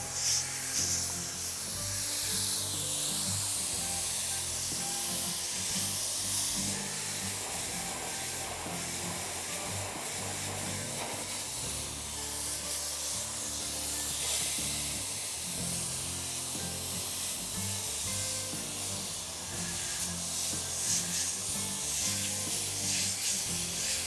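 A garden hose sprays a steady, hissing stream of water continuously onto an outdoor AC unit, a close, even rush with slight shifts in texture as it strikes the unit.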